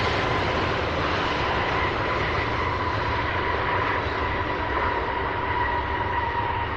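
A plane lands at night at UPS Worldport, SDF airport, its engines a continuous broad roar that holds steady and fairly loud throughout, with no talk.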